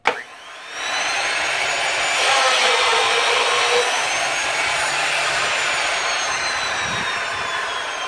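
A Grass Green Machine II hinge boring and insertion machine runs continuously, a loud, steady whooshing motor roar with a faint rising whine, starting after a sharp click and holding evenly throughout.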